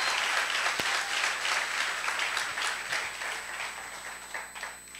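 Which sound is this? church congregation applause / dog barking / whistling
church congregation applause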